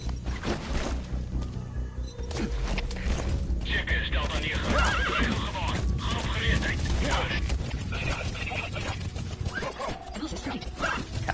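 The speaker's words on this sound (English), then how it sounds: "call D-Horse, and then I can ride back to the LZ" Horse in Metal Gear Solid V neighs and whinnies loudly amid clip-clopping hooves and mechanical game sounds, with a busy, continuous soundscape and some talk-like noise mixed in.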